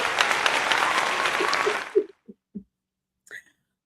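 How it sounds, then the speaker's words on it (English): On a podcast, a dense wash of clapping lasts about two seconds and cuts off, followed by a few isolated soft claps and a faint brief sound near the end. "Just a good old golf clap."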